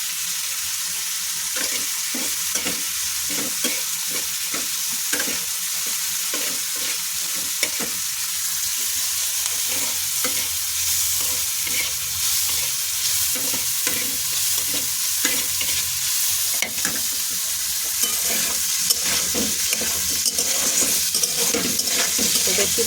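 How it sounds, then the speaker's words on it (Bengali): Paneer fries in a pan with salt and turmeric, giving a steady close sizzle broken by frequent rhythmic scrapes of a spatula stirring the pieces. "পানিরটা ভেজে তুলে নিয়েছি"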